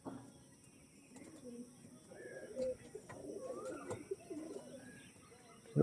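Pigeons, including Andhra, Arshad and Kalanka breeds, coo softly close by in a series of low, throaty, rolling calls, with a few brief noises and bumps around them.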